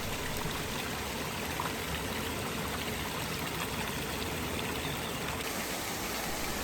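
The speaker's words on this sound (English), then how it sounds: "This alley of fountains has nearly 300 jets and symbolises the rivers that have provided water to Rome from Tivoli since ancient times." An alley of nearly 300 fountain jets in an Italian garden near Rome, Tivoli, produces a steady, dense splashing and trickling of falling water, moderately close, continuous and without voices.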